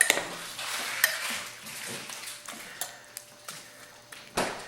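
A utensil scrapes and clinks against a slow cooker as cheese is stirred into a chicken enchilada casserole, giving soft, uneven stirring sounds with occasional sharp taps, close and fairly quiet.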